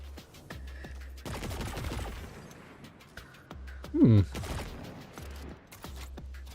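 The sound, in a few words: machine gun firing in Destiny 2 video game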